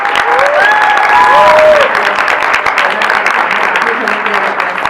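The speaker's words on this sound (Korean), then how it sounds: "여러분 계속 많은 박수와 응원 부탁드립니다" An audience applauds at an opera awards ceremony, steady clapping with a few voices briefly rising over it near the start.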